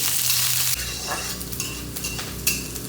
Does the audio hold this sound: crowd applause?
no